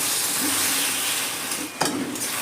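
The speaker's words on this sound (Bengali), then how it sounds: "মটনটাকে কিন্তু আমি অনেকক্ষণ ধরে কষাচ্ছি মাঝে মাঝে কিন্তু একটু করে মটনের স্টক দিচ্ছি আর কষাচ্ছি" Mutton is sautéed in a pan with splashes of mutton stock, giving a steady steamy hiss and sizzle with a brief stir or clatter toward the end.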